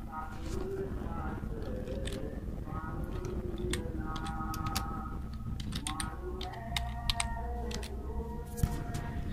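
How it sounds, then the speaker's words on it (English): Quick, light tapping of keys on a computer keyboard while entering text into a spreadsheet cell, in irregular bursts of clicks over a low steady background hum. "Simply I can select a cell and type the text."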